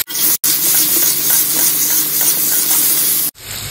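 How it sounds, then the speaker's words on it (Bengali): Boiled taro pieces hit hot oil flavoured with cumin and torn bay leaves and are stirred, making a loud, close sizzle with scraping stirs, cut short by brief gaps at the start and end. "এবার সেদ্ধ করে রাখা কচুগুলো দিয়ে দেবো।"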